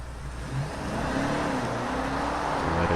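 A 2024 BMW XM engine runs and rises in a steady, close revving drone, with a deep low-end rumble throughout.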